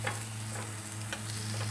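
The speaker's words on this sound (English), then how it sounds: "So not sure about these hash browns from frozen. Probably not a good idea. They're cooking." Frozen hash browns frying in a small camping pan, a quiet steady sizzle with a faint low hum underneath and a few light ticks, brief and close.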